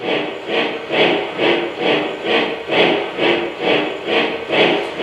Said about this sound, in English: the locomotive will in turn respond through various sound sequences that are pre-programmed into it